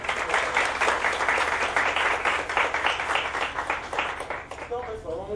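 An audience at a university lecture claps for the invited speaker, a rhythmic, fairly close round of hands that pulses steadily, then fades as a voice begins talking near the end.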